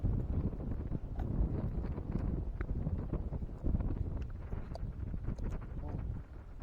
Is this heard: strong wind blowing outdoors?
yes